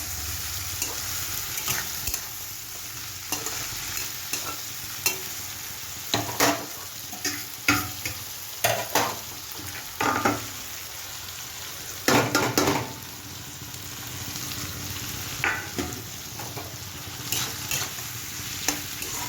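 Spice paste for a small fish curry fries steadily in a pan, a constant close sizzle broken by repeated scraping and tapping of a spoon against the metal as it is stirred.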